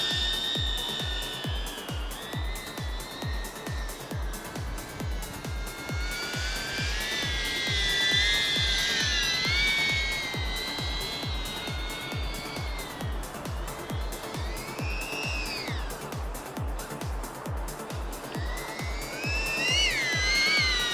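Modified DJI Avata FPV drone motors whine loudly and close, the high-pitched buzz swelling and dipping as throttle changes over a steady pulsing drone, with no talk.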